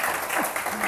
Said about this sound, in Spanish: Un aplauso para los de Buenos Aires